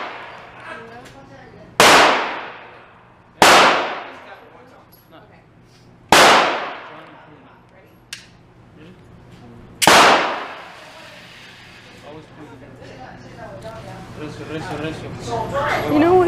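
Several loud gunshots at an outdoor gun range, four sharp cracks spaced a couple of seconds apart with a fainter pop between, ringing out over a steady background hum while a person talks quietly.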